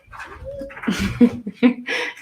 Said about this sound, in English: don't know if you hear my Rottweiler out there